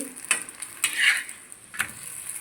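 Rice flour appams are turned in a pan over a low flame, with a few light scraping clinks of a utensil above a faint, soft sizzle.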